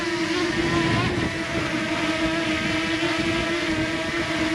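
A DJI Mini 2 drone lifts off and hovers at about ear height outdoors over a crop field, its rotors giving a steady, loud high-pitched whine with a clear tonal hum and some wind buffeting throughout.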